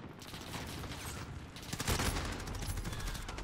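Grau 5.56 rifle fire in Modern Warfare, a fairly faint stretch of dense, overlapping gunfire bursts that swell near the middle and carry on under a busy game soundscape.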